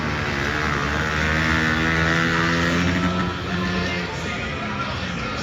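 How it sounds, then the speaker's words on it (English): A dirt bike engine held high against its rev limiter at a quad, dirt bike and ATV show, a loud, sustained buzzing drone with rapid stuttering pulses, close and unbroken throughout. "Yes, sir, you have found the rev limiter."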